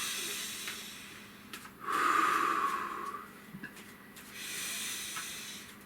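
A single deep breath, drawn in slowly and audibly and then let out, with a faint hiss of air and quiet room noise before and after.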